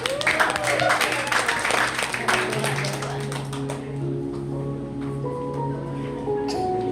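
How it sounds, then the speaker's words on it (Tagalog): Guests at FL Manilyn's 37th birthday celebration in a fellowship hall break into brisk applause for a few seconds. It then fades, leaving steady sustained tones and quieter background noise. "Darato tagaan sa masipang palakpak."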